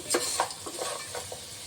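Green chillies drop into hot pulao masala in a pan, giving a bright, close sizzle with a few stirring scrapes and soft clatters and no voices.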